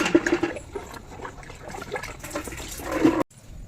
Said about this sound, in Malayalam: ഇനി ഇതിലേക്ക് വെള്ളം ഒഴിച്ച് നന്നായിട്ട് ഡൈലൂട്ട് ചെയ്ത്